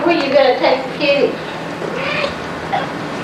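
A pet cat meows indoors in several short, plaintive calls, heard close by and mixed with a person talking over them.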